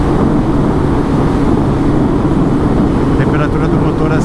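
A turbocharged Suzuki Hayabusa motorcycle pulls hard up through the gears on a street ride, its engine and wind roar forming a loud, continuous, close wash of sound.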